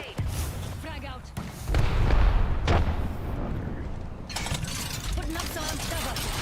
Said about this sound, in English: Look out, grenade. Frag out.